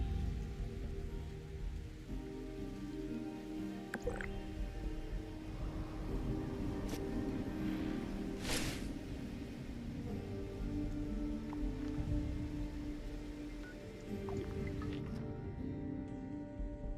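Steady rain falling in the post-apocalyptic game Fallout 76, a continuous soft hiss of drops on surfaces with low ambient rumble underneath, heard without talking and fairly constant throughout.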